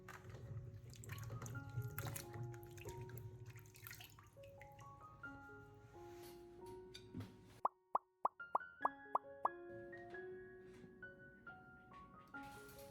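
Water dripping from freshly washed ginger left to drain, a quick cluster of sharp plops and drips standing out against faint background music, close and quiet.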